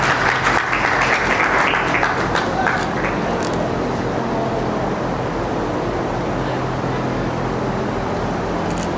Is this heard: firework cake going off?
no